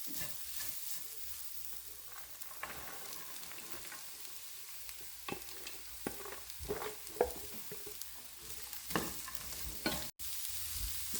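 Chopped beans and carrot with coconut being stir-fried over a low flame in a pan, a soft continuous sizzle with repeated scraping and stirring strokes, fairly quiet and close.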